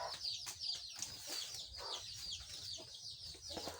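Chicks and chickens on a poultry farm cheep and cluck continuously at a brooder section, a dense, faint chorus of high-pitched peeps with scattered clucks and occasional wing flutters, and no one speaking.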